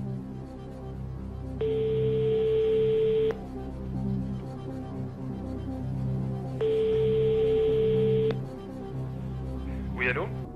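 Placing a telephone call: two long, steady ringback tones sound a few seconds apart over a low background murmur, and a voice cuts in briefly at the end.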